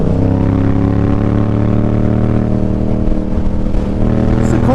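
A Yamaha R7 motorcycle being ridden, its engine droning loudly and steadily at close range with a strong humming tone and wind rush throughout.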